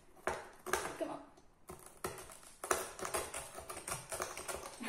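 A knife cuts through an over-baked, very crispy chicken and garlic pizza naan, giving a close series of sharp crunching taps and cracks in an uneven rhythm, with brief pauses between bursts.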